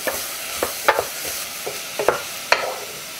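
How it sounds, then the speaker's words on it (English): Someone stirs acorn squash and apple soup with fresh ginger in a pot, making a series of wet scraping strokes with a light sizzle underneath. The sound is close and there is no talking. "You stir that 1 time."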